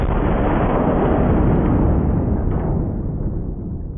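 A .500 S&W Magnum revolver fired outdoors, one loud, sustained booming blast that rolls on for several seconds and fades slowly, no voices.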